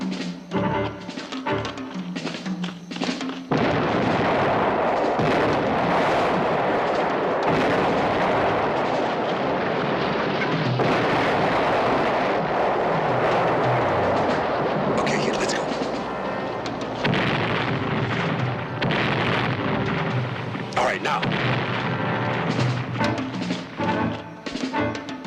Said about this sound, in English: Let's get moving before old Lard-ass opens up with his howitzers.